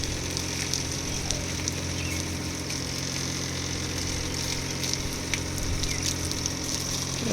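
Steady pressurized water spray washing over potted plants to rinse off mealybugs and caterpillars, a continuous hiss with a motor-like hum beneath it, close and even throughout.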